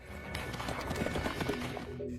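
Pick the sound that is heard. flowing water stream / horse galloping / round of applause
horse galloping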